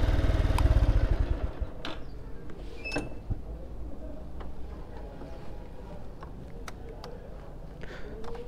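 Motorcycles are parked on a university campus, with a close, loud engine rumble at the start that fades within a couple of seconds into outdoor ambience with scattered clatter and ticks.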